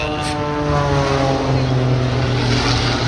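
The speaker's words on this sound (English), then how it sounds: "This is the Cap 231. It's being flown by French pilot François Lavaux," A Cap 231 aerobatic plane flown in a race over the Douro river makes a steady, loud propeller-engine drone with a harmonic whine, holding close and continuous throughout.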